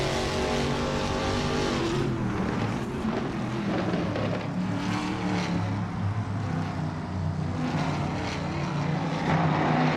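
Several race car engines, one a Chevrolet Camaro, roar continuously in a racing video game, a loud, dense drone of layered engine tones with shifting pitch throughout.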